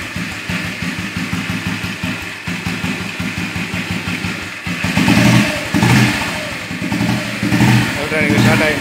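An old Royal Enfield Bullet motorcycle, started electronically, idles with a steady loud thump, then revs up more strongly partway through. Someone talks over the engine.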